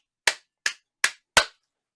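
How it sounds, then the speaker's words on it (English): Four sharp hand claps ring out one after another at a steady pace, each one clean and isolated, with silence in between. "I'll clap away from a microphone."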